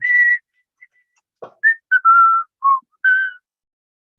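A person whistles a short, halting tune: several clear, sustained pure notes at varying pitches, separated by brief pauses, loud and close with no talking.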